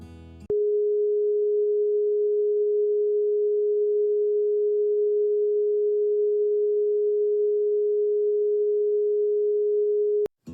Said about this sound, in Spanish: La segunda frecuencia, re, 417 hercios